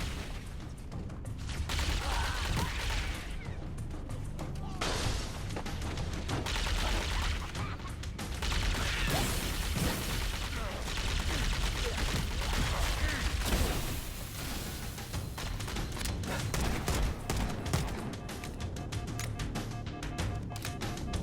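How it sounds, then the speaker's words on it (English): Dense, continuous gunfire and explosions from the Halo video game, loud overlapping rifle bursts and booms that go on without pause. "Now, one thing that you may have noticed as well is the audio of the guns."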